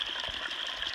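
A small spring trickles along a trail on an Appalachian Trail thru-hike, a close, bright, continuous babble of flowing water heard alone.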